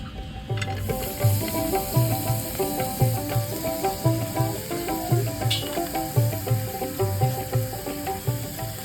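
A wet beef bharta mixture sizzles and hisses in a hot frying pan, with rhythmic scraping or stirring strokes repeating steadily throughout.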